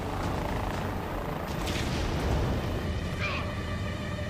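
A film helicopter's rotor and engine roar steadily and loudly throughout, with shouted dialogue and a brief sharp whine breaking in over the din.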